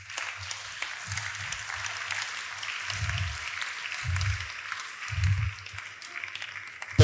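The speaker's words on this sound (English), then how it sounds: "Please, can we give her a round of applause?" An audience applauds in a school setting, with light, somewhat distant clapping heard throughout, accompanied by a few low thumps.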